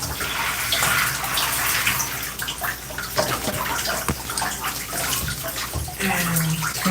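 Water runs steadily from a bathtub tap while hair is wetted, a loud continuous splashing rush with small shifts as the flow hits hair and skin.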